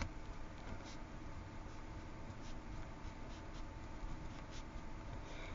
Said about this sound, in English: Pick up my pencil and write my name.